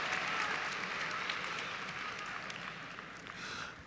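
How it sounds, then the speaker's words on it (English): A graduation crowd at Keenan High School in 2023 applauds the teachers with a sustained, dense wash of many hands clapping. It is heard from a distance and tapers slightly before swelling again. "giving them a round of applause"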